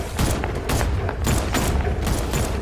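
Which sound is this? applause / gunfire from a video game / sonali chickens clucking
gunfire from a video game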